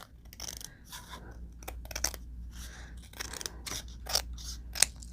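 Scissors trim a paper lap book box compartment in a rapid series of quiet, crisp snips and crunching cuts, close up, with no talking.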